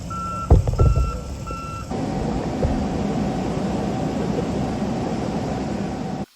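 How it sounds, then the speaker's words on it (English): Concrete truck backing in at a pour site, its steady reversing alarm beeping repeatedly for the first two seconds before a loud diesel engine rumble takes over and runs continuously to the end. "Here's the third truck, guys. We backed him in."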